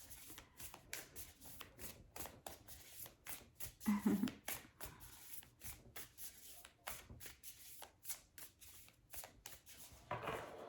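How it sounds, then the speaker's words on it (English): Tarot cards being reshuffled by hand, a soft papery riffling and rubbing that repeats in quick bursts across the stretch, close and fairly quiet, with one brief louder rustle partway through. "I'm going to reshuffle, and then I'm going to get 1 card out for you."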